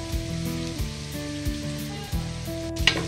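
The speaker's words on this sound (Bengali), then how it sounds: "তেল গরম হয়ে আসছে, সবগুলো পেঁয়াজ দিয়ে দিচ্ছি, এরপর সবগুলো রসুন দিয়ে দিচ্ছি।" Onions and garlic hit hot oil and sizzle loudly and close, with a steady frying hiss under rhythmic thumps of a spoon stirring in the pot.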